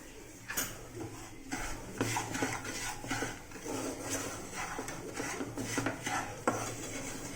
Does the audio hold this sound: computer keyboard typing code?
no